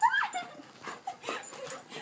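A puppy named Roxy whimpers and yips in short high, wavering cries, close and fairly loud, at home on Christmas Eve.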